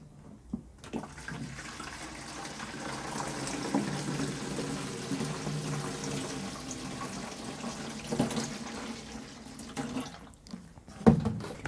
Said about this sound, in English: just top this watering can up with some more water